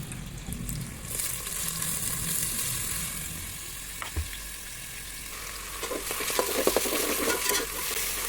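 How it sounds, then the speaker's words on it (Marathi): Chopped onion, capsicum and tomato fry in hot oil for pav bhaji, giving a steady sizzle under repeated stirring scrapes that grow busier toward the end. "हे सर्व आपले कांदा शिमला मिरची आणि टमॅटो हे सर्व आपल्याला आता भाजून घ्यायचं आहे"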